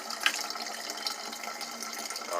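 Water flows through an alkaline water ionizer fed from a tap line, a soft steady hiss and trickle heard faintly and evenly throughout.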